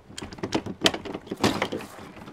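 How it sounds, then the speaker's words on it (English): An RV entry door is pushed shut during a lock replacement, giving a run of close mechanical clunks, rattles and latch clicks with a few sharper knocks, loud and near, with no talking. "close that door"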